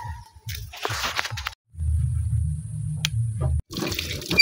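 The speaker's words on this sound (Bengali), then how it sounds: "এটাকে ভালো করে ধুবো জলে" A freshly picked mango being washed in water, with splashing and a steady running-water rush from a tap for about two seconds, then more splashing and handling noises close by.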